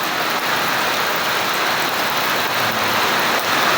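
Heavy rain pours down in Cebu, a dense, steady roar of falling water with no pauses, loud and close throughout.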